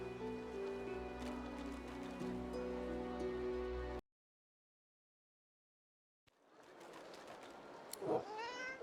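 A cat meows once near the end, in Divinity: Original Sin 2, after steady game music and ambience, a sudden silent gap, then rustling noise.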